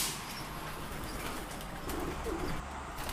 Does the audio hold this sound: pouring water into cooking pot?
no